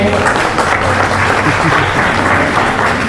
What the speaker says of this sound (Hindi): एक बार तालियां तो बजा दो।